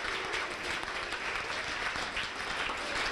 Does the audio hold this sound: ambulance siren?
no